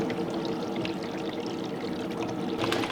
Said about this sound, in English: So we got a massive leak here going now. That's just from the shower head running.